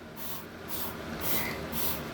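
A spray bottle mists freshly deflasked Dendrophylax orchid seedlings, giving four soft, quick hissing bursts spaced about half a second apart, faint and close.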